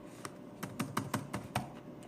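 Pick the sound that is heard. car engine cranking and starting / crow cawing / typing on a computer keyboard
typing on a computer keyboard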